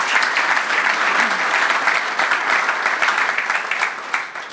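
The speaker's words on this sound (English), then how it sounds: "So let's give them a round of applause." Audience at a golf teaching and coaching summit tribute event applauds steadily, a dense, even wash of clapping hands holding at a constant level for several seconds with no talk over it.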